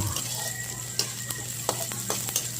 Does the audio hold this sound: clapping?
no